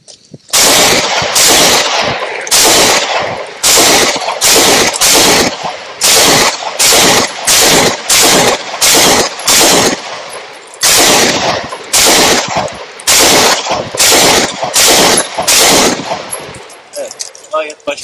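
Repeated loud gunshots from a Canik TF9 Elite S Combat pistol at a shooting range, fired in quick strings of sharp, close cracks with brief pauses between bursts, around twenty shots in all.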